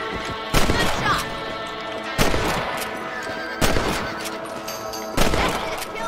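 Rifle shots at rabbits in Red Dead Redemption, four sharp cracks spaced about one and a half seconds apart, each trailing into a short echo over faint game ambience.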